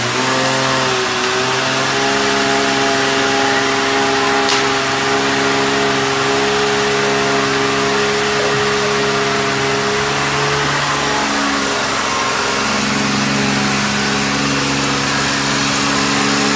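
A lifted Jeep's engine revs hard and sustains a loud, droning roar during a tire burnout, its pitch rising at first, holding high, then dipping briefly before climbing again, with no talk.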